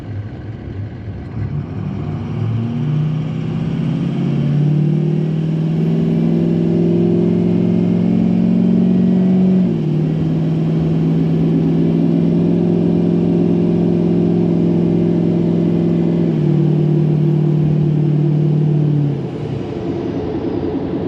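Tuned 6.0 engine pulling hard under acceleration, a loud, close, droning roar that climbs steadily, drops briefly at a gear change, then climbs again before easing off near the end.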